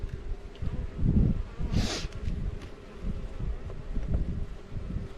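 Honey bees buzz steadily around an open hive during an early spring inspection, a dense close hum with a louder swell as one bee passes near, set against light wind.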